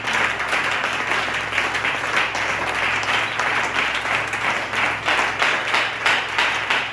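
A church congregation breaks into sustained applause and cheering, a steady dense wash of clapping that holds at an even level throughout.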